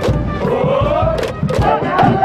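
Japanese high school baseball supporters in packed stands cheer with regional flourishes, a loud crowd roar with rhythmic thumping drum beats and chanted shouts repeating steadily throughout.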